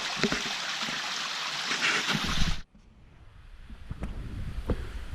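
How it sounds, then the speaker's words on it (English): Steady rushing water, a small stream spilling down onto a beach as a little waterfall, fills the first half before cutting off abruptly to quieter outdoor ambience with faint wind, at Anchorage Provincial Park. "So creates a nice little waterfall."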